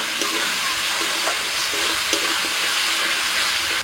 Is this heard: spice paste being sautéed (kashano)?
yes